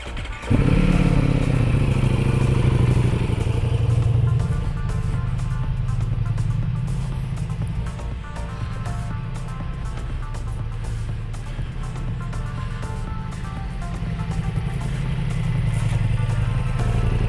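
Ducati Pikes Peak motorcycle with a BT Moto stage 1 tune, ridden at night: engine starts and revs up loudly, then runs as a steady close, throbbing drone with slight rises in pitch as it pulls along.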